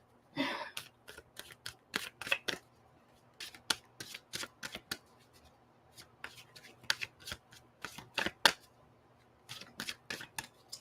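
Tarot cards are shuffled repeatedly by hand, a series of crisp riffling bursts close up in a quiet room.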